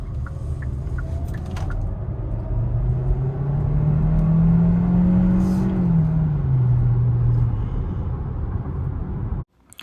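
A 2022 Hyundai Tucson Hybrid AWD cruises on a highway in smart mode, its steady engine and road drone rising in pitch as it speeds up, then easing off, heard from inside the cabin and loud throughout.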